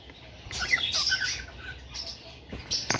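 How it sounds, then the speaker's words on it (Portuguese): A pink Bourke's parakeet gives a few bright, high chirps in short bursts, close by over a soft background. "Essa ave aqui chama Burke Rosa. Ele parece um periquito australiano, só que ele é rosa"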